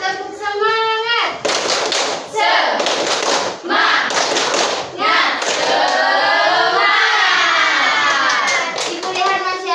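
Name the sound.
class doing the tepuk semangat clapping routine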